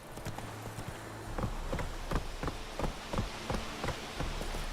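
A horse trots in The Witcher 3: Wild Hunt, its hooves clip-clopping in a steady, even rhythm of distinct knocks, moderately close, with faint ambient rustle and no talk.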